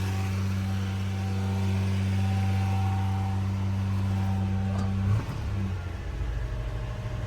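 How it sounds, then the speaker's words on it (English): A car engine runs with a steady tonal hum that drops as it idles down near the end, close and moderately loud. "Let's see if it'll idle down."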